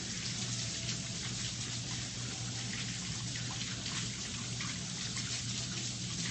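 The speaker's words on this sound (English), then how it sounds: "So let me wash my hands," A tap runs steadily while hands are washed under it in a kitchen during cooking, a continuous close splashing hiss that stays loud and even throughout with no talk.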